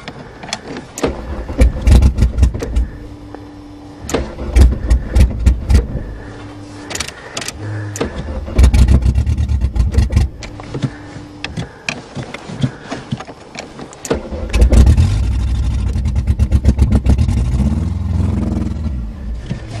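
Garrett's Topaz car cranks over repeatedly on a winter morning in short, loud, rhythmic bursts of starter whir and sputter, then catches and revs unevenly up close.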